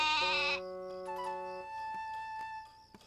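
A sheep bleats once, a loud wavering cry at the start, followed by soft tinkling, chiming musical tones with light knocks, fairly close and without talking.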